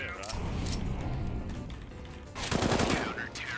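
FAMAS rifle gunfire in the Counter-Strike video game: rapid bursts of shots, loudest in a dense volley near the end, with a voice speaking over the game sounds.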